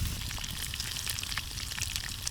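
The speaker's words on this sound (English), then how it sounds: "I coated each piece of fish and dropped them into hot oil over the fire." Fish pieces fry in hot oil over a fire in a jungle, sizzling loudly and continuously, dense crackling and spattering up close with no voices.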